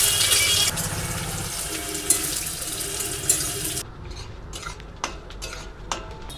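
Onions fry in mustard oil in a wok with a broad hissing sizzle, followed by quieter sputtering and sharp metallic clinks of a spatula stirring against the pan.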